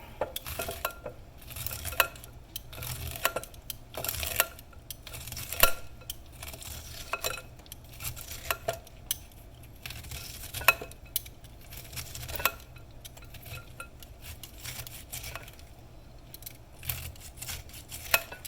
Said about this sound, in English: you could use a peeler like this and do a good job